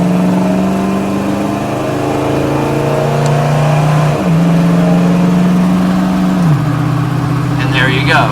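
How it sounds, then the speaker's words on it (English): A 1968 Ford Mustang California Special pulls hard through its gears, the steady engine drone rising in pitch, dropping at each shift and climbing again, loud and close throughout. "I'm going to do a little bit faster acceleration."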